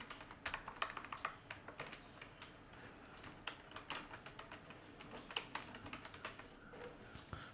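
Quick, light clicking of typing on a computer keyboard, steady and close, with uneven keystroke rhythm running throughout and no voices.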